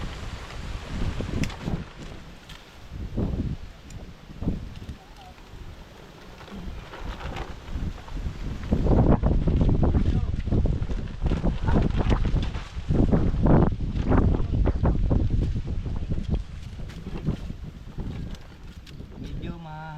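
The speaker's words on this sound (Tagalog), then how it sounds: "kayang-kaya natin yan kahit malakas pang hangin" Gusty wind buffets the microphone in rumbling bursts on a tomato farm, growing stronger partway through, with outdoor movement and occasional voices underneath.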